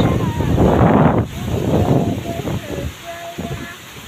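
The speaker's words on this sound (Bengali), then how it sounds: "এই যে দেখেন অনেক বাতাস হইতেছে, এই যে প্রচুর বাতাস" A strong storm wind in Galachipa, Barishal roars loudly and buffets the microphone in heavy gusts that ease toward the end, with a voice speaking underneath.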